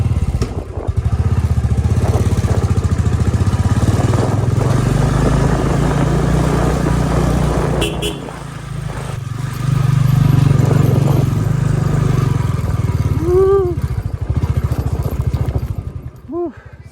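A motorcycle in Munnar, India, labors up a steep slope toward the main road, its engine droning loud and close for the whole stretch, easing briefly midway before pulling hard again.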